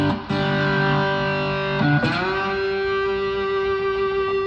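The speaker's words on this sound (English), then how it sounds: "Now I'm going to go all the way up to super heavy overdrive" Heavily overdriven electric cigar box guitar, three-string, played slide, holding a thick, buzzing sustained note with rich harmonics, briefly shifting pitch midway before ringing on loud and steady.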